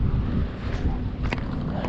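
Strong wind at Taal Lake buffets the microphone in a steady low rumble, with a few brief gusty bursts.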